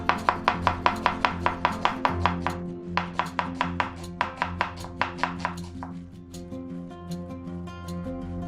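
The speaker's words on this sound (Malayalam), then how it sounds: "അത് നമുക്ക് ചെറുതായിട്ട് ഒന്ന് അരിഞ്ഞെടുക്കാം" A knife chops two onions finely on a cutting board for a Kerala-style fish cutlet, with fast, steady strikes in quick bursts and brief pauses, close and crisp over soft background music.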